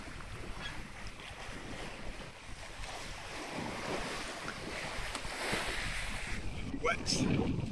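Wind and waves wash steadily around the Fife sailing yacht Moonbeam IV as she sails gently with headsails out, a continuous rushing of water and buffeting wind noise on the microphone, with faint voices underneath.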